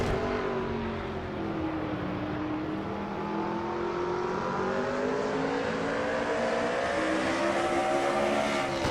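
Stock cars race at Martinsville in a racing video game, their engines holding a steady, loud roar with slowly rising and falling pitch that continues throughout.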